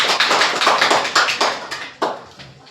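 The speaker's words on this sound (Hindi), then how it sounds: "जोरदार ताली बजाओ" A classroom of children claps loudly and rhythmically, a quick series of sharp, close hand claps that grows slightly ragged before a few final strikes.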